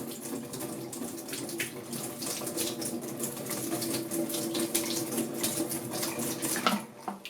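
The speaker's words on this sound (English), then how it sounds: "So that's a good old rinse, about half a litre of spring water." Spring water from a tap runs and splashes steadily over kefir grains in a sieve for several seconds, a continuous close hiss with small spattering, ending with a brief clatter.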